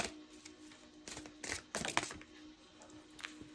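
Light language cards are shuffled by hand, giving soft irregular riffling and snapping bursts, close and fairly quiet over a faint steady hum.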